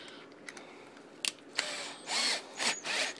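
A power drill fitted with a lock stud for a case trimming tool whirs in several short bursts, close and fairly loud, after a few clicks and taps.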